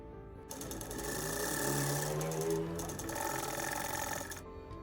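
A sewing machine runs continuously, stitching frills onto a lehenga, a steady close mechanical whir that starts abruptly, holds for several seconds with slight speed changes, and stops near the end, with no talking.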